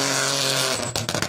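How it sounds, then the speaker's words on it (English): A rally car on a special stage at the Rally Wervik blips its throttle, a loud, close engine snarl that holds briefly and then breaks into sharp revving bursts. "down and into sight with a blip on the throttle"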